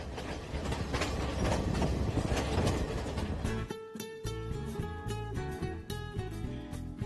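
A passenger train runs on rails during a scenic journey: a loud, steady rumble gives way to rhythmic wheel clacks and ringing metallic squeals near the end.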